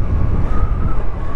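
Strong wind buffeting a microphone during a motorcycle ride on an adventure bike, a steady, loud, low rumbling roar with constant gusty fluctuations and no voices.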